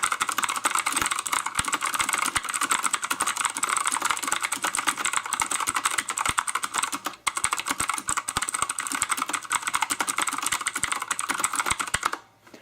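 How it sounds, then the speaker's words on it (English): Fast, continuous typing on a mechanical keyboard with tactile blue switches, a dense stream of sharp, clicky keystrokes heard close up with only brief pauses, and no voices. "a very quick typing test, just showing you guys what it sounds like as you're typing away"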